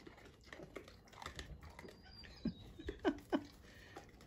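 Wild javelinas crunch and chew food outdoors: irregular, faint crunching and crackling bites, closer toward the end, with quiet rustling in the background and no talking.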